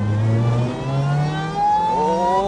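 Supercharged Honda K20A four-cylinder in a Lotus Elise revving up loudly close by, its pitch climbing steadily in one smooth sweep with a whining supercharger tone above it.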